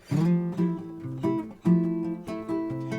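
Fingerstyle nylon-string guitar plays a relaxed bossa nova pattern, bass notes alternating with syncopated chord plucks, close and clear, no voices.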